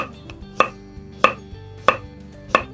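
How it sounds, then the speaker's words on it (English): A knife chops vegetables, bell peppers among them, on a cutting board in a home kitchen, four sharp evenly spaced knocks with a low hum beneath and no talking. "I just love cutting veggies, don't y'all?"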